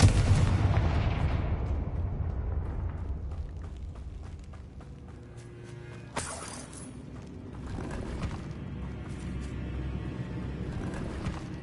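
Blasting spell explosions in Hogwarts Legacy: a heavy rumbling boom decays away, then a sharp blast strikes and leaves a long crackling, rumbling tail, with no talking.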